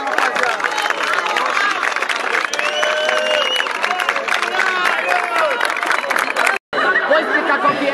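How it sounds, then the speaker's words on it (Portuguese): At the final of a street rap battle, a crowd cheers and applauds for rapper Salvador, a loud sustained roar of clapping, shouts and chatter with a brief dropout near the end. "Barulho pra quem gostou mais das rimas do Salvador!"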